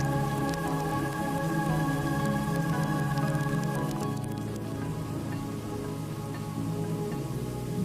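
Rain falls on volcanic mud in the Serengeti, a dense, steady patter of drops with soft squelching, which thins slightly after the midpoint and continues under a faint background hum.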